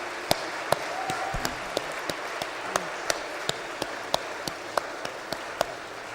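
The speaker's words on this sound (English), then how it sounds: "please, a large round of applause for Molly Crabapple" Audience applause for a speaker at the Jaipur Literature Festival, heard as sparse, evenly spaced sharp claps over a soft background hum rather than a full ovation.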